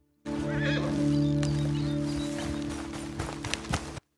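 Horse neigh in a video game with a free-roam hunting setting, a clear whinny rising near the start over a steady game ambience and music drone, followed by a few light hoof-like knocks toward the end.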